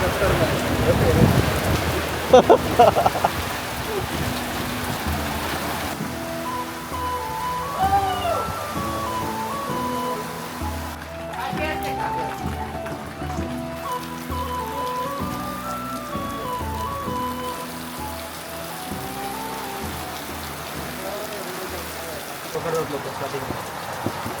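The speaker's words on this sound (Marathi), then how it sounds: "तुफानी पाऊस चालू आहे पावसाची बॅटिंग सुरू आहे" Heavy stormy rain pours steadily throughout in a Konkan village during monsoon, with wind whipping hanging clothes; a constant wash of rainfall sits under background music and some voices.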